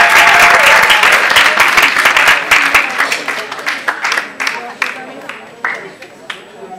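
Loud applause from an audience fills a concert hall at a music school recital at Niavaran Cultural Center, dense clapping at first that thins into scattered individual claps toward the end.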